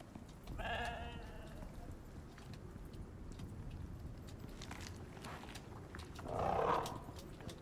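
A sheep bleats twice in the survival video game Icarus, a short wavering bleat near the start and a louder one toward the end, over soft ambient game noise and footsteps.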